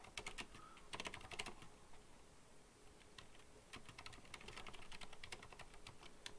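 Computer keyboard typing while code is entered: quiet, fairly distant key clicks in irregular bursts over low room noise, with no talking.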